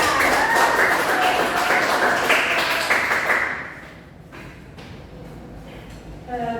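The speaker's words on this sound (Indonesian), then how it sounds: "Beri tepuk tangan dulu untuk Jora." Classmates in a classroom clap for a student called to the front, producing a dense burst of many hands clapping that fades out after about three seconds, followed by a few scattered taps and faint voices.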